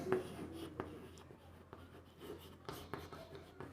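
A pen writing on paper while physics formulas are worked out, faint scratchy strokes in short irregular bursts with small taps between them, quiet and close.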